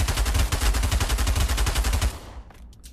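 A Draco rifle fires a rapid automatic burst in the virtual reality shooter Pavlov, loud and close, about two seconds of fast cracking shots before cutting off into a short tail.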